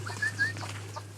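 Chickens cluck softly in a brief burst of two or three low calls at a moderate distance, over a steady background hum, with no voices.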